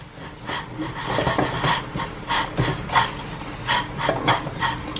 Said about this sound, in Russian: Я открываю крышку, быстренько размешаю рис и возьму его на пробу